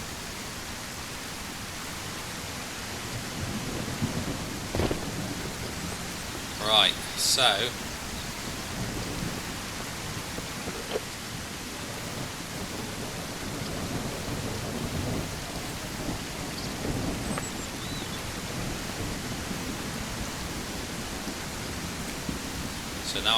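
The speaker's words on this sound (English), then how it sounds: "Of course it's raining." Rainstorm with distant thunder in the survival game Mist Survival, a continuous hiss of falling rain with a few brief louder bursts. Someone speaks briefly over it.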